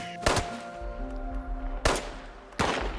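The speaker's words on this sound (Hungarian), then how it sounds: "Itt lövöldöznek körülöttünk egy páran" Gunfire in the video game Fallout 76, three sharp loud shots spaced about a second apart over a faint background hum, with no talking.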